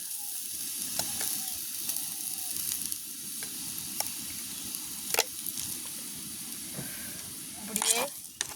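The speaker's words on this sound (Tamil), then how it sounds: "நல்லபடியாக கிண்டி விடுவோம்" Curry with milk, salt and spice powder is stirred in a cooking pot over a village fire, giving a steady bubbling sizzle with occasional sharp scrapes and knocks of the spoon against the pot, close and continuous.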